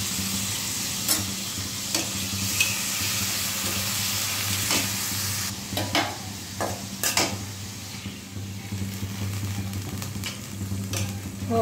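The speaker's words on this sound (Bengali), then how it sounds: "এই তো মেথি ফোড়ন দিয়ে দিলাম, আবার মাছগুলো দিয়ে দিব।" Fenugreek seeds and pieces of fish sizzling in hot oil in a home kitchen pan, a steady close frying hiss with scattered stirring clinks and scrapes throughout, no voices.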